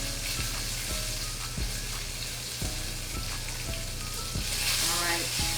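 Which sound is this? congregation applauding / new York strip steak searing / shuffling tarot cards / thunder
new York strip steak searing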